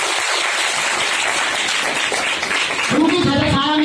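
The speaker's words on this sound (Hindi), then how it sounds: "धर्मशिला मैडम सुरेंद्र सर के लिए जोर का तालियां बजाइए।" Loud, steady applause from an audience at a DXN business gathering in honour of two mentors, a dense wash of clapping that continues throughout, with a few voices joining in near the end.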